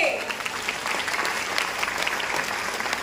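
Loud audience applause at a Patanjali yoga gathering in a hall: continuous dense clapping from a large crowd, steady and fairly distant in a reverberant space.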